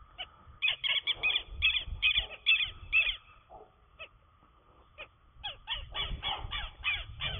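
Southern lapwings (quero-quero) call at Baleia Branca in Porto Belo, sharp harsh repeated cries in bursts, loud and close, with a pause midway before another run of calls.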